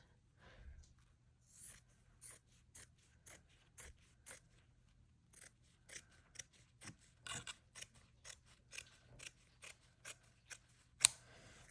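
Scissors snip through fabric, cutting it into strips for quilted ghost decorations: a steady run of crisp, close blade closures at regular intervals, quiet and without talk.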